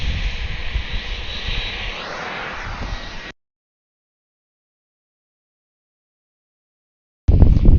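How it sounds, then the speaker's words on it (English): An Airbus A330 bound for Frankfurt takes off from runway 27 right at Atlanta airport with its landing gear still up, a steady, strong engine roar that cuts to silence and then returns briefly. "We can look over to this A330 taking off over here."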